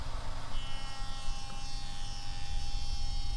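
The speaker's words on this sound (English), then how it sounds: "We'll set the router's straight bit depth to this line and cut the pins." A router fitted with a straight bit cuts dovetail pins in a wooden test board through a template, giving a continuous loud, high-pitched whine and buzz with no pauses over a few seconds.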